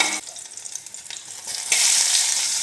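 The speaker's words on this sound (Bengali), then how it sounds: "এখন দেবো রসুন, রসুন 3-4 কোয়া রসুন ছেঁচেছি, এগুলো ছেড়ে দেব" Three or four crushed garlic cloves dropped into hot oil in a pan for a cauliflower curry, a quiet crackle that swells into a loud, steady sizzle after a moment.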